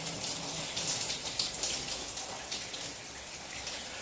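Running water rinses shampoo out of hair during a wash, a steady close hiss and spatter of flowing water with no talking.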